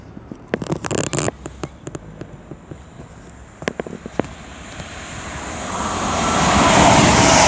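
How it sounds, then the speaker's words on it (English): Jet2 Boeing 737 bound for Dalaman flying over near Marston Green: a low jet roar builds steadily and grows loud toward the end, preceded by scattered nearby clicks and wind buffeting. "I'm pretty sure that is a Jet 2 flight going to Dalaman. And it's a Boeing 737"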